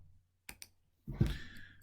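A computer mouse click on a button in accounting software: two sharp quick clicks in near silence, followed by a short louder soft thump.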